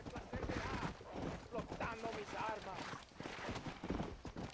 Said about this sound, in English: Ooh, wild horses.